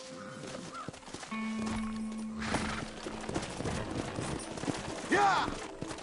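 Horses gallop in Red Dead Redemption on PS4, a steady run of hoofbeats set against game music and ambient effects, with a brief whinny-like sound near the end.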